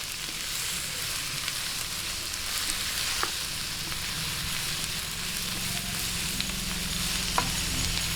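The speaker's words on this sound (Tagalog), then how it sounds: "ngayon isunod po natin itong ating shiitake mushroom. Ayan. Bisa-bisahin lang po natin." Shiitake mushrooms sauté in a hot pan, a steady close sizzle and crackle throughout with light stirring noises and no speech.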